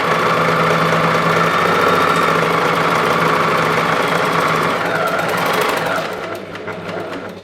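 Overlock serger stitching a folded fabric seam, a steady loud mechanical whir with fine rapid ticking that runs for several seconds, then slows and tapers off near the end.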